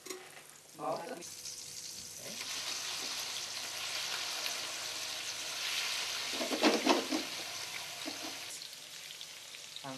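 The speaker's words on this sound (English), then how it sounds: "Now we are going to cook the livers." Calf liver sizzles steadily in butter with caramelised onions in a pan, a close continuous frying hiss with brief stirring clatter and soft talk.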